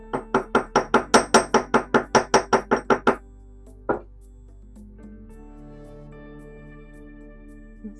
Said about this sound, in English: And we hammer.